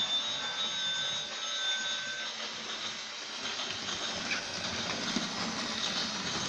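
A Fenfa 2-8-0 Consolidation toy train locomotive runs steadily close by with a continuous whirring, hissing drone and faint rail rattle throughout, no voices.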